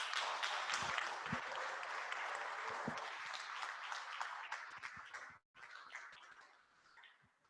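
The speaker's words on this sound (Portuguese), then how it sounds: "uma salva de palmas para nós todos" A crowd at an oral storytelling gathering in Almada gives a warm round of applause, soft and somewhat distant. The many claps blend into a steady patter, with a brief dropout partway through before it trails off.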